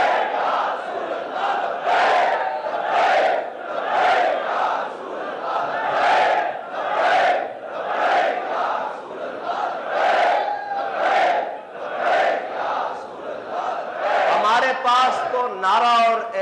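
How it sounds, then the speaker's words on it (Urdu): A large crowd at a Friday sermon chants the religious slogan Labbaik in loud, rhythmic unison, roughly one shout per second, with a voice rising above the chant near the end. "حضور کا ذکر ہو تو ہم نعرہ ہی وہ بلند کرتے ہیں کہ لبیک"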